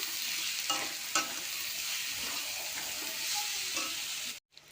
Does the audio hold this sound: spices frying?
yes